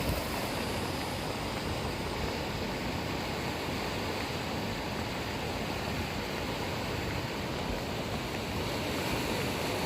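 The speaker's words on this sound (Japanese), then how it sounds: "川の水が逆流して入るよ、これ。" A swollen, high river surges during an approaching typhoon near farmland, a steady, dense roar of rushing water that fills the whole stretch without letting up and with no voices over it.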